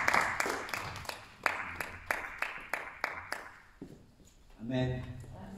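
A church congregation claps in a steady, even rhythm for a few seconds, the sharp claps close and distinct, before the clapping stops and a voice speaks.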